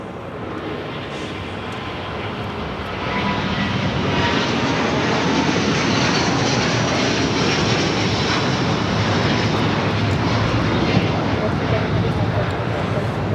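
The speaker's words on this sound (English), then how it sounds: "This is Delta Airlines Flight 7 taking off to Tokyo Haneda on the A330neo." A Delta Airlines Airbus A330neo takes off from LAX with a powerful, sustained jet engine roar that swells in the first seconds and then holds loud and broad, with a voice talking over it.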